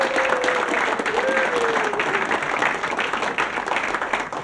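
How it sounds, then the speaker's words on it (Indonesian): A live audience breaks into steady, dense applause at a lively Indonesian talk-show style event, with a voice briefly calling out over the clapping throughout. "Tepuk tangan dulu."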